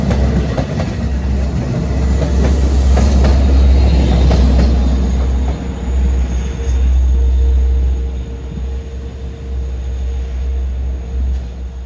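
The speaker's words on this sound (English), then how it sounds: "train 569 to Jamaica came through, which was 30 minutes late due to a breakdown." A late Long Island Rail Road passenger train, number 569 to Jamaica, rolls loudly through Mineola station in the rain with a deep rumble and rhythmic wheel clatter that gradually fades.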